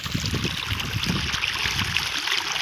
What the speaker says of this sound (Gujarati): ये पानी जा रहा है